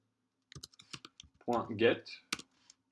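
Keys clatter on a computer keyboard while Java code is typed: a quick run of light clicks early on, then a person talking over the desk.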